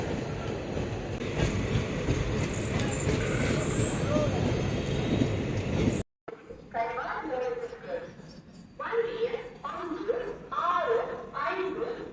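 The Puducherry–Yesvantpur Express runs on the rails with a steady rumble and clatter for about six seconds, then the sound cuts abruptly to a quieter stretch where someone talks over faint train noise.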